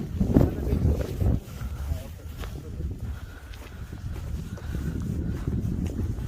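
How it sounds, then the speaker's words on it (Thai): Cold wind gusting outdoors in Iceland in February, a steady low rumbling buffet on the microphone with stronger gusts at the start and toward the end, while a voice talks over it. "ลมหนาวเลย โอ้ยลม"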